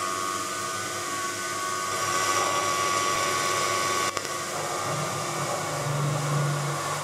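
A lathe drills a long pilot hole through full-length steel stock, spinning faster than ideal, giving a steady loud whirring, grinding drone with a brief dip partway and a rising low hum near the end.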